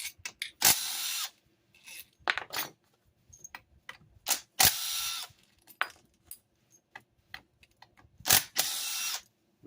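Cordless impact wrench zips out the case bolts on a 2021 KTM 125 SX engine, with short loud bursts repeated several times, separated by quiet gaps and small clicks of handling.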